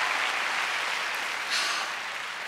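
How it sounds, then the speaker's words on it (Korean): Audience applause fills an awards ceremony hall, dense and steady clapping throughout with no voices over it. "큰 박수 부탁드립니다."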